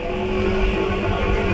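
A motorcycle engine holds a steady, loud drone at about half throttle while cruising near 80 km/h, close and continuous with no breaks.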